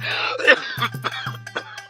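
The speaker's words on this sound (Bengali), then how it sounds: "বিয়ের পর থেকে এই কাশি শুরু হয়েছে" A man coughs repeatedly in a burst of harsh, close coughs that trail off into a few shorter hacks, loud and alone.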